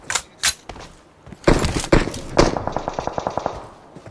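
Gunfire in the video game PUBG Mobile: a few loud, spaced single shots, then a rapid, evenly paced automatic burst of close, sharp reports.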